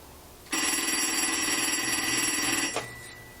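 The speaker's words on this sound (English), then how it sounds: "And it rings on an incoming call." Mechanical bell of a Green 236G three-slot coin telephone rattles in one long, loud, rapid trill for about two seconds, ending in a short clunk.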